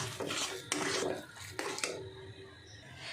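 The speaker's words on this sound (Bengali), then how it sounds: "এবার ভালো করে কষাতে হবে এটা।" A fig mixture with a little sugar being stir-fried in a pan: a few distinct spatula scrapes and knocks against the metal, fairly quiet, with faint sizzling between strokes and no talk.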